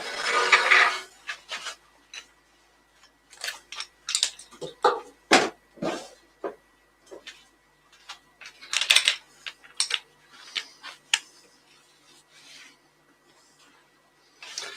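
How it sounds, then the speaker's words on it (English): Wooden vase being sanded by hand, a series of short rasping strokes in irregular bursts, fairly close and moderately loud, with brief pauses between passes and no talk. "I'll get that sanded."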